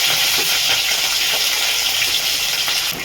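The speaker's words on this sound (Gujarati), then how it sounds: "હવે આમાં આપણે મરચાં એડ કરી દઈશું" Green chillies and capsicum, added to hot oil with peanuts and cumin, fry with a loud, steady sizzle that fills the whole moment, close and continuous with faint stirring.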